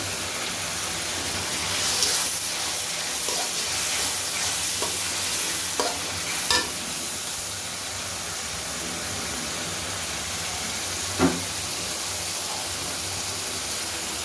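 Whole spices (bay leaf, cinnamon, cardamom and black pepper) go into a pan of duck curry, giving a steady close sizzle of frying with scattered stirring clicks and pops.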